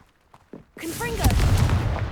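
Confringo fire spell in Hogwarts Legacy: after a short voiced call, a loud close blast erupts into a sustained roaring, crackling burst of fiery explosion that fills the rest of the moment.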